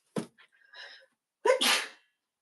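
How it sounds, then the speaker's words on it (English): A person sneezes indoors while reorganizing bookshelves: a couple of faint breathy catches build up, then one loud, close, explosive sneeze bursts out and trails off. "I'm just gonna sneeze."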